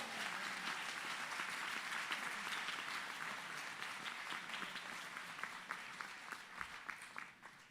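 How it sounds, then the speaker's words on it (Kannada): Sunday church congregation clapping loudly for God, a thick roll of many hands that gradually thins into scattered, separate claps near the end. "ದೊಡ್ಡ ಚಪ್ಪಾಳೆ ಹೊಡೆಯೋಣ ದೇವರಿಗೆ."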